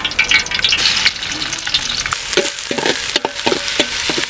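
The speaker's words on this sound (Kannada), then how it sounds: "ಅಡಿಗೆ ಎಣ್ಣೆ ಚಟ ಚಟ ಪಟ ಪಟ" Crushed ginger-garlic paste crackles and spits in hot cooking oil for a Mandya-style pork dry roast, a dense close sizzle with sharp popping bursts and a few scraping stirs toward the end.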